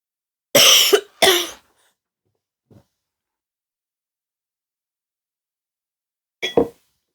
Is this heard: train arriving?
no